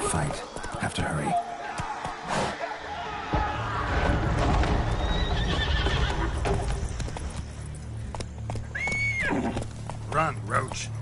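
Roach, a horse in a video game, galloping with rapid hoof clip-clops and giving a loud whinny, with combat clatter and a speaking voice mixed in.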